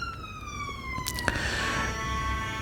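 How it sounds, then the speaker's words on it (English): An ambulance siren sweeps past in a falling wail with a sharp jump in pitch midway, loud and close against a steady background hum. "That sound is an ambulance."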